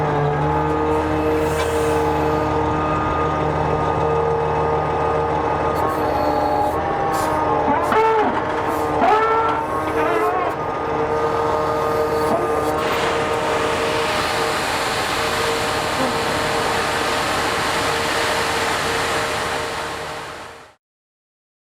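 A roll-off truck with its PTO engaged runs a steady, loud engine and hydraulic drone while dumping its box, with clanks and squeals in the middle as the load shifts, then a broad hiss before the engine cuts off.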